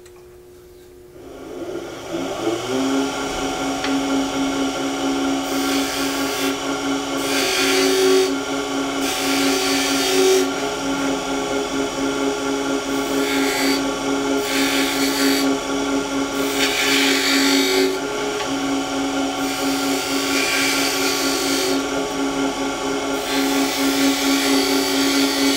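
A woodturning lathe spins a wood spindle while a skew chisel cuts it, giving a loud, steady motor whine with a scraping hiss that comes and goes in repeated passes, close and continuous.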